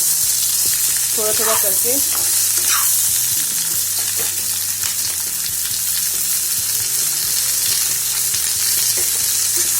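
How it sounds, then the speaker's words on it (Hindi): Long pieces of ivy gourd are added to onions frying in a pan and sizzle loudly and steadily, with a short stretch of talk early on. "तो अभी हम जो लॉन्ग लॉन्ग पीसेस में काटे थे कुंदरू, उसको डालेंगे"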